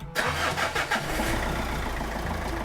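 A Mitsubishi Triton diesel pickup with a 4D56 engine cranks briefly and catches, then settles into a steady, low idle rumble close by with no voices.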